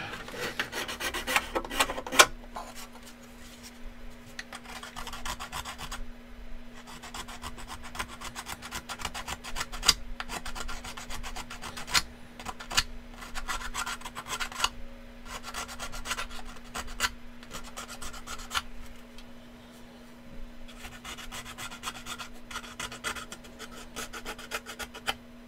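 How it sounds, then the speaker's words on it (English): A hand file rasps against wood during a build, producing continuous scraping strokes that come in quick repeated passes at moderate loudness over a low steady hum. "It's just going to be easier to do with the hand file"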